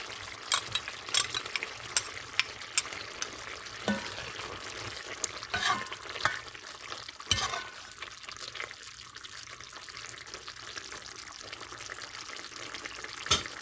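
Scallions going into a frying potato, shrimp and coconut milk curry, with loud sizzling and repeated stirring scrapes against the pan, punctuated by sharp clinks, and no one speaking.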